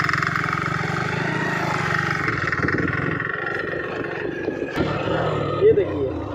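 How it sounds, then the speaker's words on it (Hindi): A motorcycle engine running on diesel instead of petrol chugs roughly and unevenly up close, its low rumble wavering and sputtering throughout. "डीजल पे बाइक चल रहा है हमारा"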